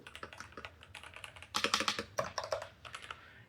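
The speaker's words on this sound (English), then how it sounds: "Overall, I really like the keyboard, and it sounds so nice." Clacky mechanical keyboard typing, a fast run of keystrokes that grows louder and denser midway, close and clear with no talking.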